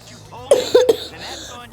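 A few short harsh coughs from one nearby hoarse person, bunched together with brief pauses, plus a raspy vocal sound at the end.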